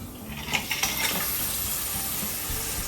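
Clams going back into a hot pan of wine and red pepper flakes for spaghetti alle vongole, with a steady close sizzle and a few clattering knocks of shells early on.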